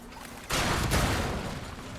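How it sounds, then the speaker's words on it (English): A grenade explosion in Resident Evil 4 Remake arrives as one sudden loud burst that lingers as a rumbling, decaying blast over a faint background hum. "Watch this grenade not work."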